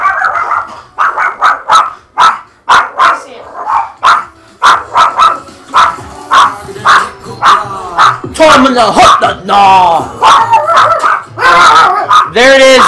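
Several dogs bark loudly and close by in repeated sharp bursts, some yipping and whimpering, while a person talks briefly in between.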